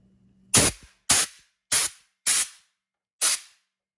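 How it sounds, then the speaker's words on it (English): Five short, sharp bursts of compressed shop air blasting debris out of a spark plug well on a John Deere X580 lawn tractor, evenly spaced and loud, with no talk. "I'll take shop air or compressed air, and we'll just give a quick burst in there to blow any debris out of the way"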